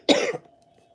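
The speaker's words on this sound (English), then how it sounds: "And I got a cough, y'all." A single short, hoarse cough from a woman with a burning throat, close and fairly loud, fading quickly into a quiet room.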